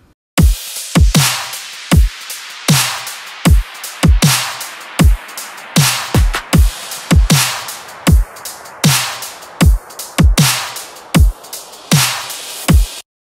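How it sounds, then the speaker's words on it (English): Future bass drum mix of punchy kicks and snares with cymbals and rising sweeps, hitting in a steady, loud, driving rhythm throughout with no voices. "Altogether, the drums will sound like this."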